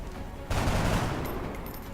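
Burst of gunfire from XCOM: Enemy Unknown erupts after a quiet half-second and rolls on steadily, loud and dense, with no talk over it.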